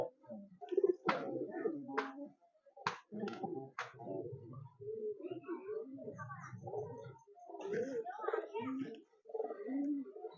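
Soft pigeon coos from short-sized tournament pigeons repeat in low murmuring phrases, mixed with a few sharp clicks and nearby voices talking.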